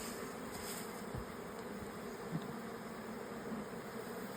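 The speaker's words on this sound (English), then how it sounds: "so that these bees could climb out and go back inside their hive" Bees buzz at a hive, a faint continuous drone that holds steady throughout, with no other sounds rising above it.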